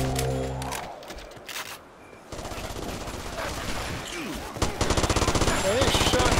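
Rapid gunfire crackles in The Last Stand video game, automatic bursts and rattling shots layered over battle noise, with voices talking among the shots.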